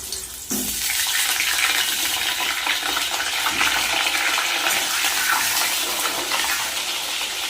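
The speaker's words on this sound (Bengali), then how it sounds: "পটলগুলো ভেজে নেবো" Pointed gourd (potol) slices dropped into hot oil in a wok with black cumin seeds, starting with a sudden loud sizzle that settles into a sustained crackling hiss, close and continuous, with no talking.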